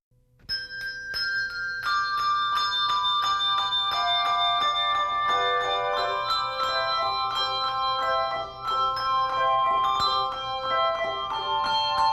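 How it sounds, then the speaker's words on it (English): Christmas bells ring out in a steady layered peal, many tuned strikes overlapping and sustaining, loud and continuous with no talk. "Sleigh bells jingle and churches ring out calls to worship."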